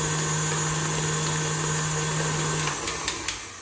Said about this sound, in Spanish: Igual esta batidora es más rápida